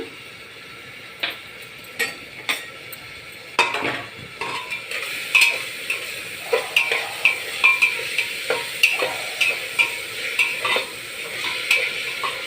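Sliced onions with turmeric and salt being stirred into hot oil for mutton curry, a steady sizzle under repeated sharp clinks and scrapes of a spoon against the pan.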